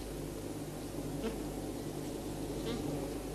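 Bees hum and buzz inside their hive in a soft, continuous drone, faint and steady with occasional nearer passes.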